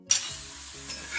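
Steady high sizzle of meat frying over high heat for Georgian chashushuli, loud from the first instant and continuous to the end, with no voices.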